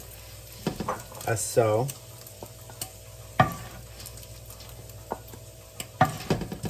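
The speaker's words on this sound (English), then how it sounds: "we're just rendering the bacon until it gets nice and golden brown" Bacon rendering in a pan until golden brown, with a steady soft sizzle broken by sharp clatters and scraping stirs, and a brief voice speaking now and then.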